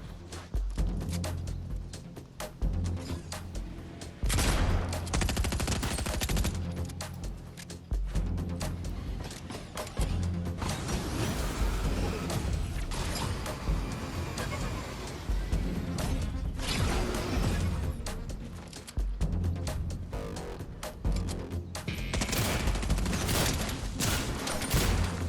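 Rapid SMG gunfire from Fortnite ranked-mode gameplay, dense bursts of automatic shots with crashes and impacts, loud and near, running almost continuously with brief gaps.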